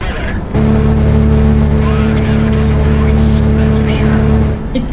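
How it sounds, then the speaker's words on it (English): An aircraft's gun pod fires in the video game Project Wingman, an unreleased plane, producing a loud, steady, buzzing rapid-fire roar that runs unbroken for about four seconds before cutting off. "let's check the sound of the gun pod."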